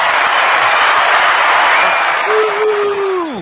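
A concert crowd claps and cheers in a broad, loud wash of applause for a rock singer, with a short whoop rising near the end as the noise starts to fade.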